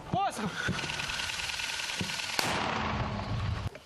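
Sharp gunshot bursts crack out several times over a steady engine-like drone, with one loud report near the middle, in combat near Klishchiivka, Ukraine.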